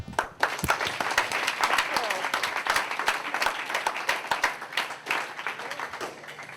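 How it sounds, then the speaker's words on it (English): An audience at a Walk to Defeat ALS event applauds, crisp close claps forming a loud, dense, steady wash with some voices mixed in. "let's give a round of applause to Laura"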